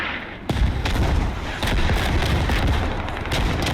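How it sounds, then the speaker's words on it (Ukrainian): Heavy booming blasts from mortar ranging shots, a sharp impact followed by rumbling reverberation and another thud, loud and close. "зараз міномети пристрілюються"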